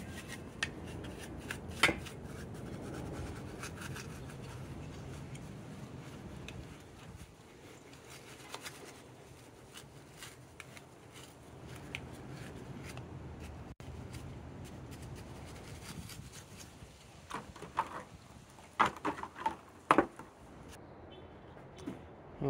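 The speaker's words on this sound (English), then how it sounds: "We're just brushing it from the inside." A brush scrubs boiled-up coffee buildup from the inside of a disassembled Gaggia Anima Deluxe espresso machine, giving a steady, close scratchy rubbing that runs throughout with a few sharper knocks and taps near the end.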